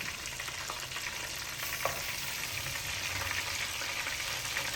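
Dolla fish frying in oil gives a steady, even sizzle and crackle throughout, with a faint scrape of a utensil partway through and no talking.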